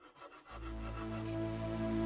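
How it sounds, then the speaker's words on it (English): A coarse Shinto rasp scrapes against a wooden guitar body in quick repeated strokes, close and steady, with a low hum building underneath after a brief start. "Shinto rasp with the coarse side until here"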